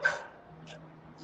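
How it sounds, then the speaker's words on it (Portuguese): A single dog bark rings out at close range, followed by two quieter yips, over a low steady hum in an indoor setting. "Deixa latir, fica tranquilo."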